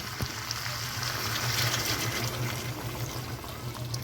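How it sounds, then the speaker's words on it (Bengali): Water pours into a pot of chicken curry with tomatoes over a raised flame, making a steady, close, continuous rushing pour with a light sizzle underneath, and no talking. "এখন দিয়ে দেব জল, আর জল দেওয়ার সময় ফ্লেমটা বাড়িয়ে দেব"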